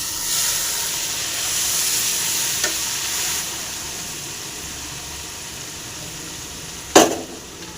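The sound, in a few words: hot tempering oil poured onto gooseberry pickle, sizzling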